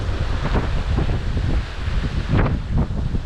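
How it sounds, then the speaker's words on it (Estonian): Strong wind buffets the microphone in a steady roar while sea waves wash and surge beneath it, loud and close throughout, with no voices. "Korralik tugev tuul käib siin peale ja meri lainetab ikkagi korralikult."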